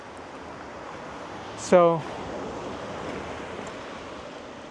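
Ocean waves wash along the shore on Jeju Island at sunset, a steady soft broadband rush throughout, briefly interrupted by a single short spoken word.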